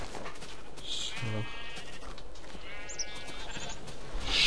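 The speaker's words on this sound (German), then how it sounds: "Schaf." Sheep bleating in Minecraft, a short synthetic baa rising over game ambience with a faint second cry near the end, no talking.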